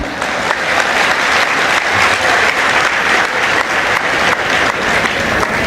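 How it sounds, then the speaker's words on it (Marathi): Dense, sustained applause from a large audience at a live comedic speech, steady and loud throughout with no gaps. "आणि टाळ्या बिळ्या वाजवताना रोग येऊ द्यायचा नाही,"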